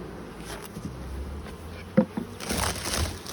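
Honey bee colonies buzz inside stacked hive boxes in a bee yard, a dense continuous insect hum with a few brief knocks and rustles rising near the end.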